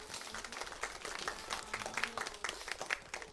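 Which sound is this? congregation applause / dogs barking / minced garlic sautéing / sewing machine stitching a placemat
congregation applause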